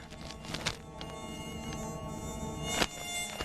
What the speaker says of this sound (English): Meet the mosquito, the smallest and deadliest creature in the countdown.